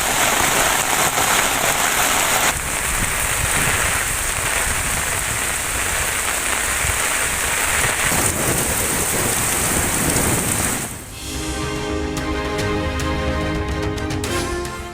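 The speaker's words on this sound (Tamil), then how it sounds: "மேட்டுப்பாளையத்தில் பலத்த மழை கொட்டியதால்" Heavy rain pours down in Mettupalayam, a dense, loud, continuous roar of downpour throughout with no voices, its texture shifting near the end.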